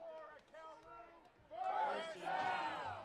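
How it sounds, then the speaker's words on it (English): At a Cal Lutheran versus Chapman college football game, a stadium crowd roars a chant in unison, rising loudly midway after a commentator's voice, heard somewhat distant and reverberant. "The crowd saying first down."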